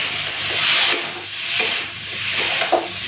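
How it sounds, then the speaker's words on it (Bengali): Masala paste for a Bengali fish curry fries in a pan while being stirred, giving a close hissing sizzle broken by three rhythmic scraping strokes. "এরপরে হাতে সময় নিয়ে মশলাটাকে ভালো করে কষে নিই।"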